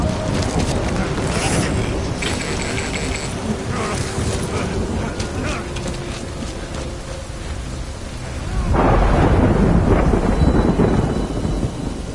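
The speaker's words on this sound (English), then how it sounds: "Good thing it was raining." Steady heavy rain hisses throughout, while thunder rumbles and swells, growing louder and deeper toward the end, in the video game Death Stranding.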